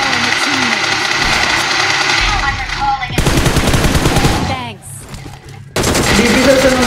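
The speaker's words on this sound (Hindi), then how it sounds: "एम फोर की यहाँ पर मेरे पास एमो नहीं खत्म हो जाती है।" Rapid automatic M4 rifle fire in Free Fire zombie mode, dense loud bursts that stop and then resume, with game effects and engine hum in the background.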